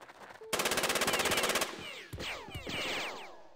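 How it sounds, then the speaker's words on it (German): Rapid automatic gunfire from the tactical video game Jagged Alliance 2, a fast, loud, evenly spaced burst of shots followed by ringing ricochet-like whines and scattered shots, with no talking. "Einfach verrücktes Schießen."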